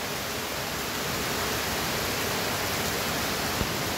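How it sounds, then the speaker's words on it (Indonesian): Heavy rain pours down in a forest, a steady, dense broadband hiss with no breaks, close and loud throughout, with no voices. "Ini hujannya cukup lumayan lebat."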